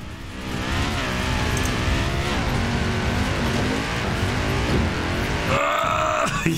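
An Audi engine in Forza Horizon 4 racing, revving hard and steady with rising gear pitches and tire squeal, then a sudden shift in tone near the end as the car changes pace.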